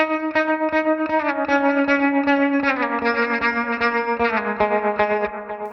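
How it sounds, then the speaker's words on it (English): Electric guitar through a Sonicake Matribox II Pro multi-effects unit playing sustained chords with a fast pulsing tremolo, steady and loud, with delay and reverb echo trailing behind. "I'm going to want the tremolo on to start with"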